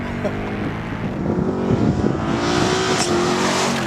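A Mercedes-Benz C63 AMG Coupe Black Series engine revs and roars steadily as the car drives hard through a figure-eight test, the pitch rising and falling through turns, with wind noise throughout.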